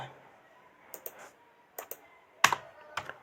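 Sparse keystrokes on a computer keyboard while entering an equation in Microsoft Word: a few scattered clicks, then a sharper close burst of taps near the end, alone in a quiet room.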